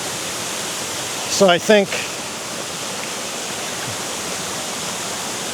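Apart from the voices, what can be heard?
small waterfall in Arkansas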